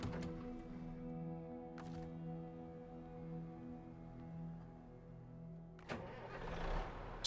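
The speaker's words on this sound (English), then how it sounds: "Start my engine." A truck engine in the video game SnowRunner turns over after a low steady hum, bursting into a louder rough rumble near the end, close and alone with no talk.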